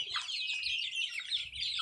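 Darag native chickens cluck and chirp continuously nearby, a busy flock chattering with a low rumble beneath, on a farm in the Philippine countryside.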